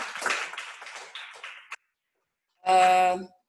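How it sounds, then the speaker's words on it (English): A short round of audience clapping breaks out after a pause at a Rotaract Club installation ceremony in Kampala, honouring Doreen Gutabinji and following a stretch of spoken words. "Please, let's clap for Doreen Gutabinji."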